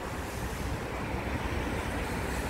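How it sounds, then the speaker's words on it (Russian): Cold winter wind blows steadily in Istanbul, a close, rough broadband rush buffeting the microphone without a break. "Ветер холодный."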